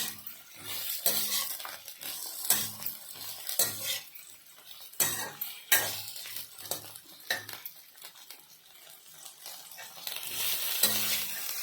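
Raw banana (valakkai) fry is sautéed in a pan, with a metal spoon scraping and clinking in repeated strokes over a soft, steady sizzle.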